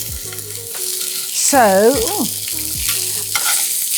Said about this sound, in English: Let's hope we get a good sizzle.